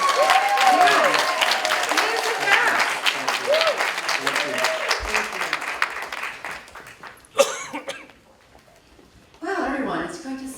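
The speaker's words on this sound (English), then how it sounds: "can we just give a big warm round of applause to" An audience at an Imagine Talks event gives a warm round of applause that fills the first several seconds and gradually thins out, with a cough or two and a voice speaking near the end.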